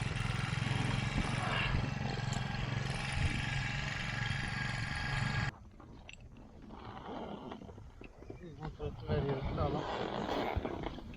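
A boat engine on a lake roars loud and steady for about five seconds, then drops to a lower, uneven rumble with clatter and water noise.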